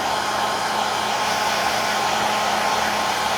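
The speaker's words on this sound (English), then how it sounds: "So these dryers are really inexpensive, guys." A dog grooming hair dryer blows on a Coton de Tulear, giving a steady, loud, close whooshing roar that holds constant throughout with no voices.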